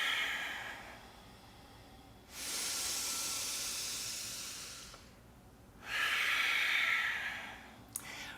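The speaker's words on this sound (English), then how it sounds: "Filling the lungs completely. Releasing completely. Breathe in that fresh morning prana." Slow, deep yoga breaths drawn in and released, each long airy hiss lasting a few seconds with quiet pauses between, close and alone without talk.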